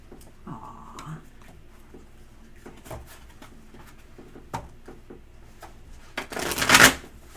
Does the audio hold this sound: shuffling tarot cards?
yes